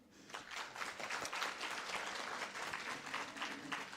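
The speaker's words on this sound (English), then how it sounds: "please let's applaud." An audience at a women's annual dialogue event applauds steadily, a dense patter of many hands that stays even and somewhat distant, faint overall, with no talk over it.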